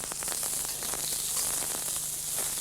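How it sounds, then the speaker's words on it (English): Garlic, ginger and onion bits stir-fry quickly in a hot wok with very little oil, giving a steady bright crackling sizzle, close and continuous, with light scraping ticks. "I'm going to quickly flavor that with a little bit of garlic and ginger and a few bits of onions that I have left."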